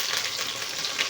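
Garlic and curry leaves fry in hot oil in a pan, giving a steady, close, hissing sizzle with faint crackles and no voices.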